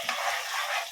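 Garlic and small onions fry in a pan, giving a brief, even, soft sizzle with no voices.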